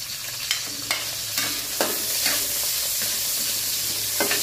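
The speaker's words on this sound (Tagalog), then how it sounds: "Ngayong golden brown na ang sibuyas at bawang" Onion, garlic and ginger sautéing in a pan, a steady loud sizzle running throughout with occasional stirring scrapes and clinks rising above it.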